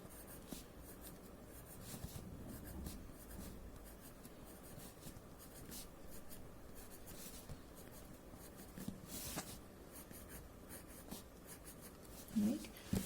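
Pencil drawing on paper, a soft continuous scratching and rubbing of graphite strokes heard close and quiet, steady throughout with a brief faint voice near the end.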